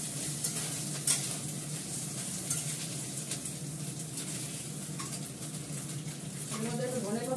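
Fish frying in a pan with a coriander stem crisping beside it, a soft continuous sizzle with a few stirring scrapes, no voices over it.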